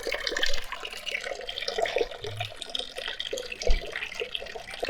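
Mountain spring water runs steadily from a public town fountain in Bansko, Bulgaria, a continuous splashing flow with a few louder gurgles, heard close up amid outdoor street ambience.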